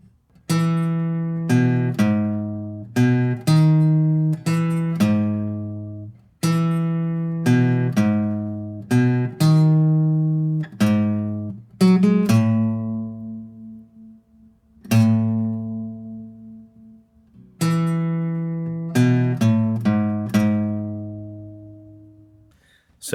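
A low, plucked guitar riff of single notes, repeated phrases with short gaps, played alone and clearly up close.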